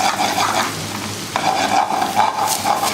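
Prawns for shrimp scampi sizzle in a hot pan, a steady close frying hiss with slight stirring shifts and a brief dip partway through, no voices.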